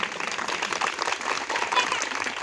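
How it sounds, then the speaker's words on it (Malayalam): An audience at a church convention gives a steady round of clapping that holds at an even level for a few seconds. "ഇതാണോ നല്ല കൈയടി?"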